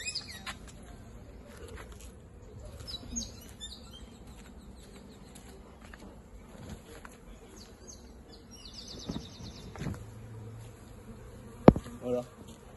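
Honeybees from a swarm buzz faintly around a hive, with soft droning and occasional insects passing close, plus light knocks and rustling handling noises.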